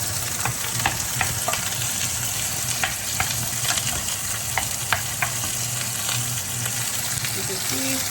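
Zucchini frying in a pan for a steak dinner, a steady dense sizzle with scattered crackles and pops and occasional scraping stirs, close and continuous.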